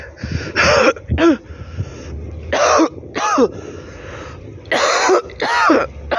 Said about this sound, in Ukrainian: У мене кашель.